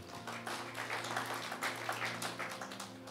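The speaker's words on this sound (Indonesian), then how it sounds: "Ayo tepuk tangan untuk Tuhan." A church congregation applauds in a steady, dense wash of clapping, heard faint and distant over a low sustained hum or held tone.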